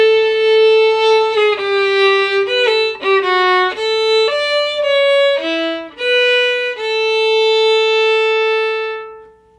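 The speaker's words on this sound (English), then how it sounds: "The second ending sounds like this." Second ending of a waltz played solo on a bowed instrument, likely fiddle: a close, clear melodic run of quick notes settling into longer held tones, ringing out at the end without any voices.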